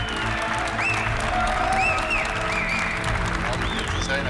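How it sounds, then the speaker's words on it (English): Applause in a historic hall at a Porsche kickoff event, greeting company boss Matthias Müller: a steady, dense wash of clapping from a large crowd, loud and continuous throughout, with some voices mixed in. "A big round of applause for our boss"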